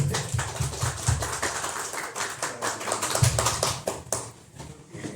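An audience at a talk on anarchism and One Piece gives a welcoming round of applause for a speaker. The claps are dense and close, with a few louder claps standing out, and the applause fades toward the end.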